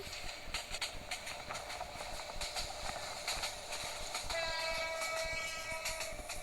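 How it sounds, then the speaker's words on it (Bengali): A train horn sounds in a Bangladesh train simulator game, a steady tone starting partway through over the continuous rumble of the moving train, with no talking. "হর্ন দিলাম"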